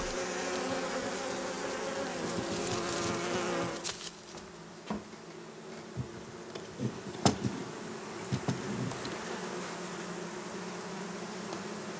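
Honey bees buzz around their hive in a dense, continuous drone, with individual insects passing close in short louder bursts.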